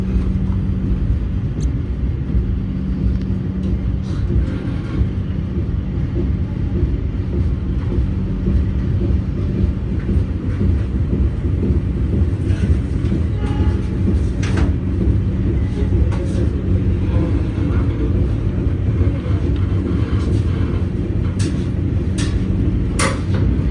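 A night passenger train pulls away from Nganjuk station in Indonesia, giving a steady, loud rumble of wheels and carriage noise that fills the recording, with faint intermittent clatter and no talk.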